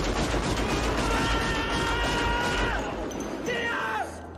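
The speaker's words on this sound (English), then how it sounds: "he just lets off that round of bullets into the" A round of gunfire let off into the sky in the film Point Break, a loud dense burst of shots over a roaring film mix with shouting voices, then fading.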